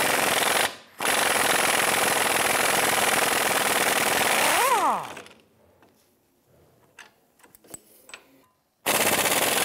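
A wrench on a swivel socket extension loosens and removes 15 mm wheel hub bolts on a 2005-2007 Ford Five Hundred, giving loud, sustained rattling bursts, then quieter clicks and metal taps, then another loud burst.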